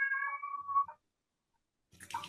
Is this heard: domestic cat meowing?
yes